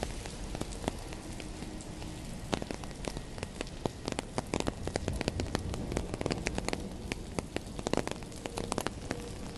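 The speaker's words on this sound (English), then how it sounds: "It's chucking it down." Heavy rain pours down, making a steady hiss with scattered sharp taps of drops hitting a nearby surface, with no voices.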